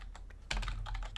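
A quick flurry of computer keyboard keystrokes, close and crisp, with several rapid clicks landing in a short burst after a softer tap or two.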